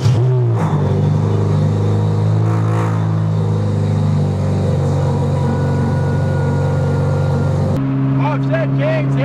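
Loud car engine running and rumbling steadily while driving, a constant drone close by with a brief shift near the end, no clear speech over it.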